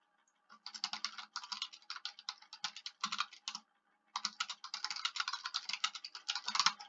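Rapid typing on a computer keyboard, dense bursts of clacking keystrokes with a short pause midway, close and clear with no talking.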